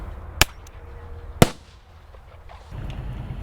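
A bird-dispersal pyrotechnic bang round fired on the runway at OR Tambo Airport: two sharp, loud cracks about a second apart, each decaying into a short echoing tail over steady outdoor rumble.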